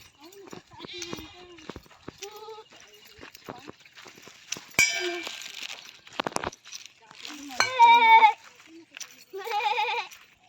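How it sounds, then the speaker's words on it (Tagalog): Several goats bleat in a rural Batangas setting, with repeated wavering calls from near and farther animals interspersed with scattered clicks and rustles. "Daming kambing no."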